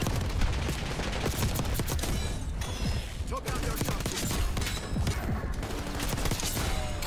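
Black Ops 6 gunfire crackles through a multiplayer match: dense, rapid bursts of close shots stack into a near-continuous loud fusillade across the whole stretch.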